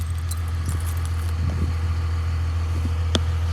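A truck engine idles steadily on a cold start, a low constant rumble close by, with a few light metallic clinks and rattles on top.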